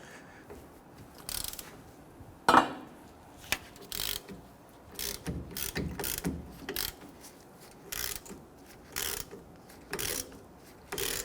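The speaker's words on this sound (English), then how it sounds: "our caliper bracket itself is held on by two 19mm bolts, one here, one up top. Let's go ahead and loosen and remove these." Ratchet loosening the 19mm caliper bracket bolts on a Nissan Frontier's rear brakes, quiet bursts of rapid clicking repeated in short irregular strokes with brief pauses between.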